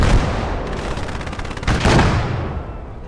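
In a World War II tank battle video game, a tank shell fires with a loud, close blast, followed by rumbling battle noise and a second heavy burst of gunfire-like impact partway through; no talk.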